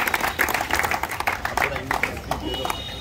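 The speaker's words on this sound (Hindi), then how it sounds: "जोरदार तालियां" Loud applause and clapping from a crowd at a physical fitness academy event in Berhampur, a dense, continuous patter of hands filling the whole moment, with voices mixed in underneath.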